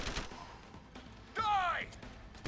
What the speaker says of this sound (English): Let's try with the submachine gun.